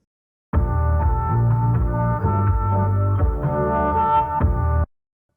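Sampled lo-fi house loop run through a low-pass filter and warm saturator, a dense muffled chordal pad with thick low end, steady and loud, starting and stopping abruptly, no voices.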